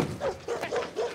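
A dog from the movie Barbershop gives a quick series of about four short barks or yips, fairly faint and evenly spaced, with no talking over them.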